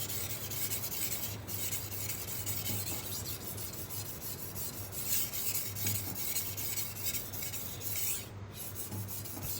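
Steady abrasive rasping of a knife blade stroked against a sharpening stone, continuous and close, with even rubbing strokes and no talk.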